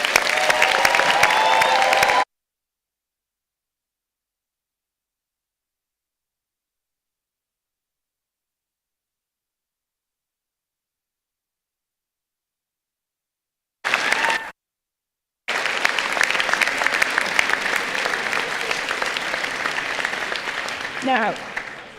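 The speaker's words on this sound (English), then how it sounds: "So can everyone please join me in a round of applause for our graduates?" A graduation ceremony audience applauds its graduates with a steady roomful of clapping that breaks off after a couple of seconds, falls silent, then resumes briefly before settling into longer sustained applause.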